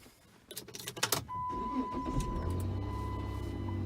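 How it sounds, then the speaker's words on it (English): A 2005 Chrysler 300 engine is started from inside the car: a few key and switch clicks, a brief cranking whir, then the engine catches and settles into a steady idle with a faint electronic whine. "I'm going to start the vehicle."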